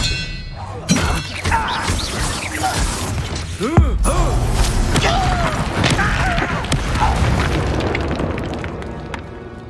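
Spell blasts from Bombarda and Confringo in Hogwarts Legacy combat land as booming, clanging impacts with ringing metallic tones and thuds, several hits in a row over a noisy battle bed, while a voice speaks in between.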